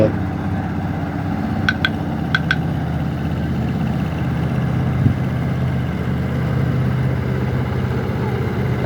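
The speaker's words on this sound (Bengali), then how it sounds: "আসতেছে নৌকা আসতেছে" A boat engine hums steadily as the boat approaches on the Padma river, a continuous low drone at moderate distance, with a few brief high beeps partway through and faint background voices.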